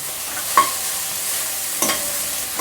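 Onion sautéing in oil for a Maharashtrian forest-greens bhaji, a continuous soft sizzle with two or three scraping stirs of a spoon against the pan.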